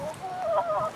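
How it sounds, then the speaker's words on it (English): A backyard garden rooster gives one short, loud, near crowing call, a strained rising then wavering cry lasting under a second. "And this is my rooster."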